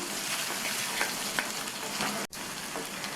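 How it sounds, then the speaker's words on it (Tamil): Onion and green chilies sauté in a hot pan, giving a steady, close frying hiss with a few soft stirring scrapes and a brief dropout near the end; no one speaks. "இந்த வெங்காயம் பச்சை மிளகாவை 1 நிமிஷம் போல் வதக்கி விட்டால் போதும்."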